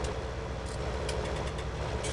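Tractor engine in a farming video game, a steady mid-pitched idle hum with faint clicks of gear engagement, continuous and fairly close, no voices.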